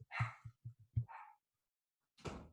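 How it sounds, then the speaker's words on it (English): A dog barks indoors in a home, a quick run of several short, clipped barks followed by a pause and one more louder bark, heard at moderate distance with no talk over it. "Hold on, my dog's barking."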